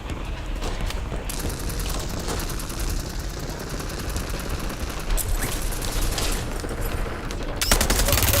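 Rapid bursts of automatic gunfire in a shooter video game, dense crackling volleys with sharp individual shots, continuous and fairly close with a few louder bursts near the end.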